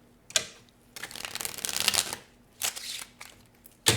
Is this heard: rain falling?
no